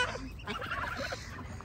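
Ducks and other waterfowl at a lakeside feeding spot, a busy cluster of honks, squawks and gobbling calls close by throughout, with a steady background hum of birds.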